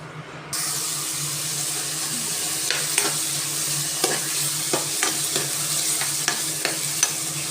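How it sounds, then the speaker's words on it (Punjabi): Ginger, tomato and onion hit hot oil for a tadka, bursting into a loud, steady sizzle after a brief quiet start, with intermittent clicks and scrapes of stirring throughout. "ਇੱਧਰ ਆਪਣਾ ਤੇਲ ਗਰਮ ਹੋ ਗਿਆ ਵਾ ਤੜਕਾ ਲਗਾਉਣ ਵਾਸਤੇ"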